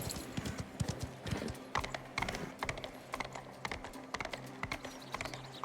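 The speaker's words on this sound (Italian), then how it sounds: "E quindi dobbiamo spronare il cavallo adesso, perfetto." Horse hooves clip-clop in the video game Mafia The Old Country, a rapid uneven gallop of close, crisp hoofbeats with occasional mechanical clicks.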